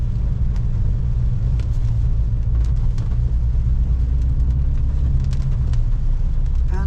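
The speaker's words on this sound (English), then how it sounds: "The bus driver Wanted to overtake. wants to overtake, has got to overtake" A bus on a Philippine road drones and rumbles heavily as it overtakes two trucks, a loud continuous engine roar heard from inside with a few faint clicks.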